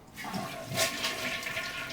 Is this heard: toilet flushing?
yes